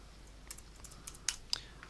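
A computer keyboard clicks softly as text is typed, a brief sparse run of light keystrokes with two slightly sharper taps near the end, quiet and close.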